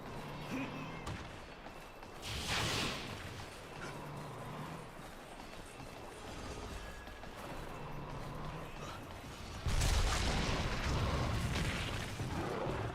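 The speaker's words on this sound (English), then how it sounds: "Wow, that was a really long, lingering explosion." A long, lingering explosion in the video game Monster Hunter Generations Ultimate booms and rumbles over several seconds, with a louder second blast near the end amid game sounds.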